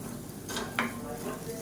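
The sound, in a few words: stirring and mixing food in a pan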